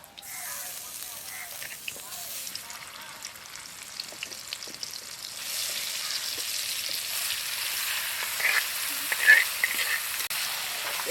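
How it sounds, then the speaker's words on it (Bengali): Marinated jackfruit and potatoes sautéing in oil and ghee, a continuous hissing sizzle that swells louder midway, with scattered stirring clicks and faint background sounds. "এঁচড় এবং আলু খুব ভালোভাবে কষিয়ে নেব।"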